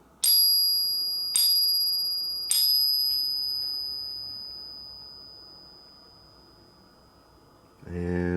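A silver Franklin half dollar coin is struck three times, each strike giving a bright, clear ring that hangs and slowly fades, followed by a brief rustle at the end.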